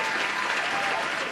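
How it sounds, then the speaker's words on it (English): Steady, dense applause from an audience at a live show, loud and sustained with no pauses, filling the whole moment without speech over it. "There's the applause."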